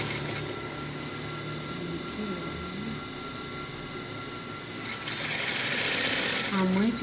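A sewing machine stitches fabric in a steady, mechanical whirring run close by, growing louder near the end while a person speaks over it.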